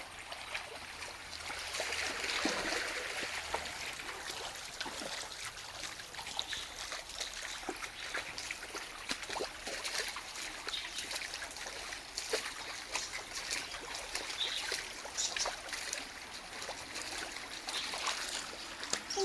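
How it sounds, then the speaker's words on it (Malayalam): Continuous rushing and trickling water of a small village stream in Kerala, steady and moderately loud, no voices. "അപ്പോൾ ഇതാണ് നമ്മളെ തോട് എന്ന് പറയുന്നത്"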